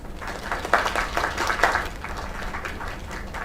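Applause in the video game Lake, a modest round of clapping from a small group, moderately close and steady, with a few louder claps standing out.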